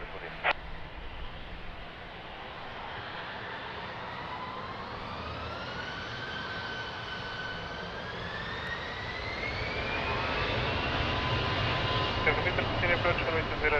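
Airliner taking off from runway 20 at Lisbon Airport, a continuous, loud jet engine roar whose whining tone climbs steadily as thrust builds, with radio voices talking over it.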